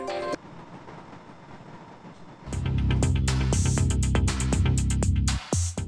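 An Indonesian KRL commuter train runs on its rails. After a quiet stretch, a loud, close rumble rises suddenly, with repeated rhythmic wheel clicks and clacks over the steady roar.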